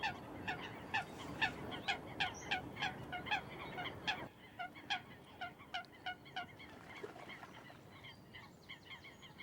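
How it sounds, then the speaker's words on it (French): Diving ducks, common pochards and tufted ducks, call in rapid, repeated croaking notes at a steady rhythm on a large wintering pond, fairly distant, fading slightly partway through. "De nombreux canards plongeurs, comme ces fuligules mi-loin et morillons"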